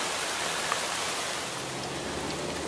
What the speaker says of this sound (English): We're hoping we just have a quick shower here